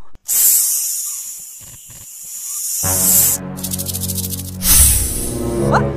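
A cartoon snake hisses in long, loud, close bursts, a steady airy hiss that fades then swells again, with a rattling buzz partway through and no speech.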